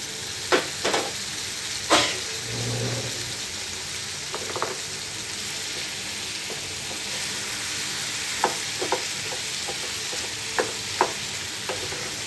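Green chillies and tomatoes sautéing in a pan for a chicken coconut gravy give a steady sizzle, with a handful of sharp scraping clicks from stirring scattered through.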